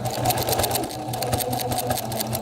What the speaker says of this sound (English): So I'm just going to stitch through here.